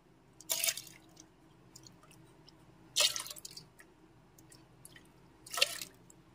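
Washed pea dal is tipped into water in a pressure cooker, three short wet splashing pours spaced a few seconds apart over a quiet background.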